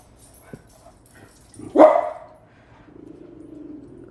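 A dog gives one sharp, close bark after a faint click, then lets out a softer, drawn-out whine in an otherwise quiet room.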